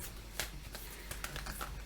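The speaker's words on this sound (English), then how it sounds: "We're just shuffling." Tarot reading cards shuffled by hand in a soft, irregular run of papery riffles and flicks with a few sharper snaps, close and fairly quiet, with no talk.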